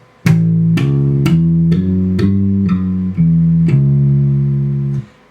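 A rock and roll bass line played on guitar repeats a chugging pattern of evenly spaced plucked notes, clear and close, with no voices.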